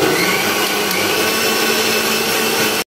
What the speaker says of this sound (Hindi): मैं इन सबको मिक्सर ग्राइंड में मिक्स कर लूँगी।